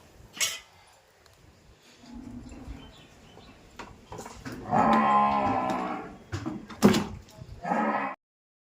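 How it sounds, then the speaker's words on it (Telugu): A water buffalo in heat bellows loudly on a farm, letting out several long, strained moos in succession with short pauses between them, close by. "గేది అద మీద ఉందని చెప్పాను కదండి అందుకే అరుస్తూ ఉంటుందన్నమాట చాలా గట్టిగా అరుస్తుంది"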